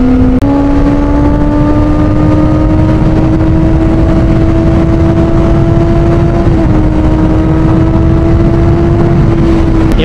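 A Kawasaki ZX6R sport motorcycle engine holding a loud, steady high-rpm whine that climbs slightly in pitch while accelerating, close and continuous with wind noise.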